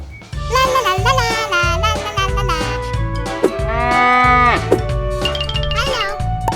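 A cartoon cow moos with a drawn-out, wavering call, heard over a bright, busy music track in a children's animated story about a breakfast vending machine.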